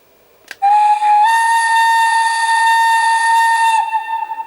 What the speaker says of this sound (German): Ich zeige mal die Pico in der Mitte mit der Signalpfeife.